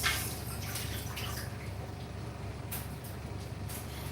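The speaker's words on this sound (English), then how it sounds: "Let me wash my hands." Running water splashes steadily from a tap as hands are washed in a home kitchen, a continuous close hiss with faint drips and small splashes, no voices.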